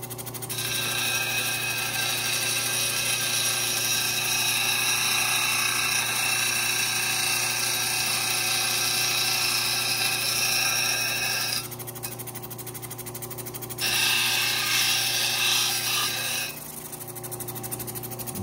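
A 220 grit lapidary wheel shaping a cabochon stone hums as a loud steady whine, with a brief drop and shift in tone partway through as the stone is moved across the wheel.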